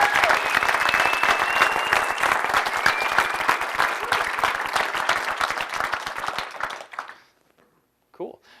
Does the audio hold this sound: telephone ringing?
no